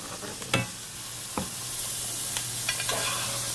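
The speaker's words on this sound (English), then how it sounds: "We're just going to baste the top of it with it" Meat basted with butter in a sizzling cast iron skillet: a steady hiss runs under a few sharp clanks and scrapes of a spoon against the pan. No one talks.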